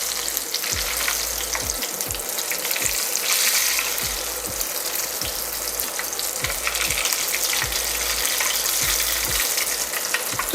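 A ball of ice cream deep-frying in hot oil crackles and sizzles loudly and continuously, with a regular pattern of soft pops and bubbling bursts running through the steady hiss.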